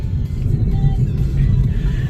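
Toyota Vitz engine humming steadily from inside the cabin while driving, a low droning rumble with road noise and no talk.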